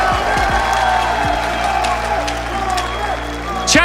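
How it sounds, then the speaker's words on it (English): A steady roar of cheering and applause fills an arena at the BLAST Rainbow Six Siege Major grand final in Atlanta, with a commentator talking over the crowd noise throughout. "One more ovation from the crowd here"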